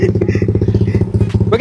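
Motorcycle engine fitted with a Vilan aftermarket exhaust, running close and loud with a steady rapid throbbing pulse and clattery texture throughout.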